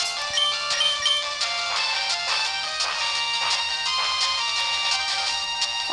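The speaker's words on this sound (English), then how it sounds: "my phone's ringing, but I'm going to ignore that" A phone ringtone rings on loop, a bright repeating melodic chime pattern sounding loud and steady for several seconds with no talk over it.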